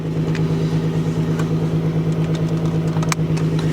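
Nissan Fairlady Z fitted with an R35 GTR exhaust runs with a steady, deep droning note, held close and constant with only slight swells, no voices over it.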